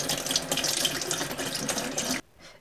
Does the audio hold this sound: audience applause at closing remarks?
no